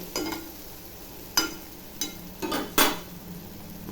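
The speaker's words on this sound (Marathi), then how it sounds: "याला चांगलं असं परतून घ्यायचं" Egg rice masala being sautéed and stirred in a pan, a soft sizzle broken by a few scraping spoon strokes, close and fairly quiet with no talk.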